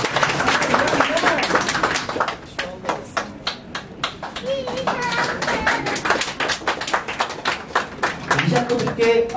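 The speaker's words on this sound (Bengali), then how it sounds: "জোরে হাততালি দাও" Loud clapping from students at a university farewell ceremony, sharp separate claps rising into bursts of applause, mixed with a speaking voice and crowd chatter throughout.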